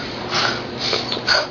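A young girl imitates a pig, making a few short breathy snorts close up, one after another in about a second and a half.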